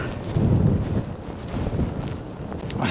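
Heavy wind gusts sweep a Skegness beach seafront during Storm Darragh, buffeting the microphone with a loud roaring rumble that surges, eases and surges again throughout.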